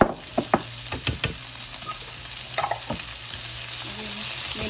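Garlic and steak bites fry in butter, a steady close sizzle with scattered pops and the clatter of stirring utensils, no voices.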